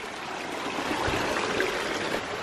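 Creek water streams steadily past 1-inch PVC pipe laid among rocks near a ram pump intake, a continuous broadband rushing and trickling wash that holds an even level throughout with no voices.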